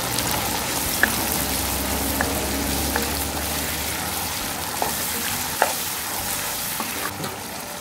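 Boiled, finely chopped beef fries in a pan with softened, wilted ingredients, a loud, steady crackling sizzle with occasional stirring clicks throughout.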